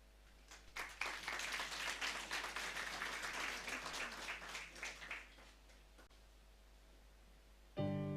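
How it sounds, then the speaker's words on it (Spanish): Church congregation applauding the choir Nueva Alegría at an Aymara Sunday service, a dense wash of clapping that swells, then thins out and fades toward the end before a brief low sound cuts in. "vamos a dar fuertes aplausos al coro Nueva Alegría"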